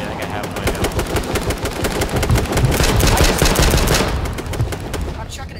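Rapid automatic gunfire in the H1Z1 battle royale game, a dense continuous burst of shots that swells louder in the middle and runs for several seconds with no talk over it.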